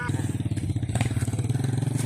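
A motorcycle engine labors and chugs in a steady pulsing rhythm, close and loud, as the bike struggles up through thick mud in heavy rain.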